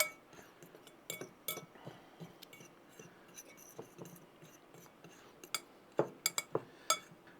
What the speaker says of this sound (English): Grab another fork and just incorporate all that in that flour here.